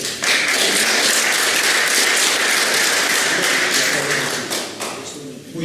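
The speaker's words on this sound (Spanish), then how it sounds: "Un aplauso" Dense, steady applause from a conference audience fills the hall, continuous clapping that holds strong throughout before tapering slightly at the end.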